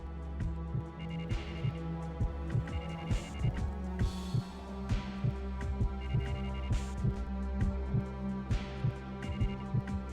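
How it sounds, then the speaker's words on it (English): A synthetic heartbeat effect from the video game The Silver Case pulses in a steady repeating double thump over a droning hum and electronic tones. "I've noticed, like, the numbers are pulsing with this heartbeat."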